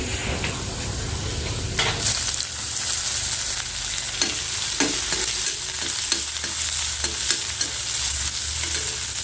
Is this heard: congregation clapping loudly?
no